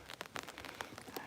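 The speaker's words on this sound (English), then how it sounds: "A little bit rainy, but not too bad out here." Rain falls outdoors in Japan, recorded on an iPhone 12, a soft irregular patter of drops tapping on a surface, close and fairly quiet with no voices.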